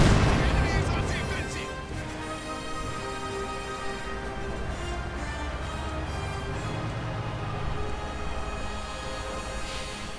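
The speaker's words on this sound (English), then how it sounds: "Shots bouncing off the 80mm of sloped clipped steel." Company of Heroes 2 1v1 match with tanks such as a Panther, SU-85 and T-34-85: heavy cannon booms open loud, then gunfire and impacts continue at a steady level while a commentator talks over them.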